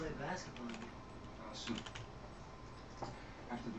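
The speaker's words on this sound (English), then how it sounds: "Instead of release, you're going to type in renew" A computer keyboard clicks faintly as a command is typed, with scattered keystrokes under a quiet, hissy background and a voice speaking over it.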